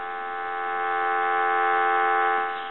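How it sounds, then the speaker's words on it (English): A steady dial tone from a Uniden EXS9966 two-line cordless phone holds as a clear, continuous hum. It swells slightly and then eases, heard close with nothing else over it. "Give you some dial tone."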